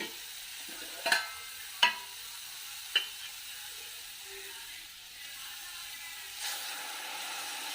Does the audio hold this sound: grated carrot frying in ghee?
yes